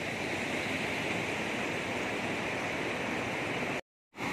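A river swollen after a night of heavy rain rushes steadily on a morning walk, a dense, even roar of flowing water that holds constant and then cuts out briefly near the end.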